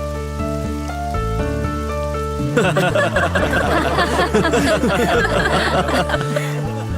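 Rain in an animated children's story sets in as a dense patter a few seconds in, layered over a steady musical score with light giggling voices mixed in.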